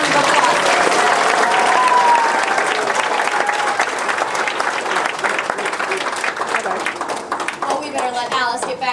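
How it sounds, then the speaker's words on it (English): Studio audience applause for a game show contestant, loud, dense and sustained, with cheering voices mixed in and the crowd noise easing slightly toward the end. "Let's give Charlie a big round of applause."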